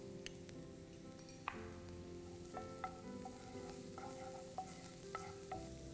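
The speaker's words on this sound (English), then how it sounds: "I'm using a bit of oil, adding in some chopped onions, spoon of garlic" Chopped onions and garlic frying in oil, a steady close sizzle with occasional clinks and ticks of stirring, no voices.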